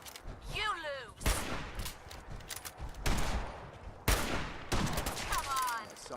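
Gunfire in Fallout 4 survival mode during a fight at the Minutemen castle: repeated loud volleys and single shots at mid distance, with in-game character voices shouting between bursts.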